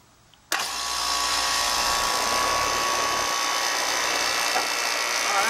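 A Rheem outdoor AC compressor fitted with a Kickstart KS1 hard-start kit kicks on abruptly after near silence, then settles into a loud, steady mechanical hum and drone close by.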